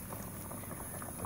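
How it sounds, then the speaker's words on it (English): Chicken tenders and thighs go into a pot of boiling kale soup, with steady close bubbling and simmering that continues evenly throughout. "We're gonna add that chicken in."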